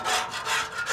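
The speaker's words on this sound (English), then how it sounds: "you're going to scrape off any rusty, loose metal" A wire brush scrapes rust and loose metal off the steel cooktop of a Blackstone griddle in three quick back-and-forth strokes, a close, gritty rasping sound.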